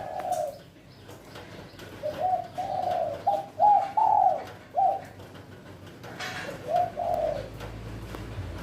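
Soft, low cooing calls from a spotted dove, a few phrased coos in sequence with short gaps, moderately close against a quiet outdoor background.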